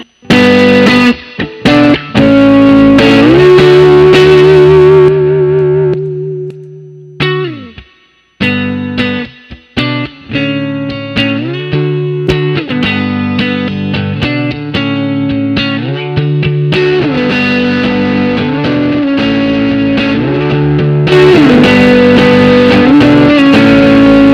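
Electric guitar played through boost and overdrive pedals on a budget worship pedalboard, with loud, sustained distorted chords and riffs that continue almost without break, including a brief drop near the middle.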